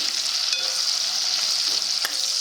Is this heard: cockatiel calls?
no